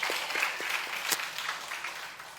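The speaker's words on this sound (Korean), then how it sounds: "하나님께 박수로 다시 한번 영광을 드립시다." Dense, steady applause from a church congregation during a Korean Sunday worship service, filling the space evenly for a couple of seconds with one sharper burst near the middle.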